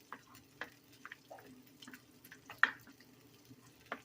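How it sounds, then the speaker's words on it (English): Refried beans are stirred and mashed in a pan with green chilies and shredded cheddar cheese, giving soft, sparse wet squelches and light clicks of a utensil over quiet background hiss. "You're going to want to stir and mash your refried beans up"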